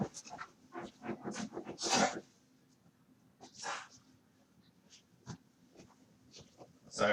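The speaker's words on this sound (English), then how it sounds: "dog's digging in the chair" A dog digs and scratches at a chair indoors, making several bursts of scraping and scuffling at close range, the loudest cluster early and a couple of later scrapes, with no talk over it.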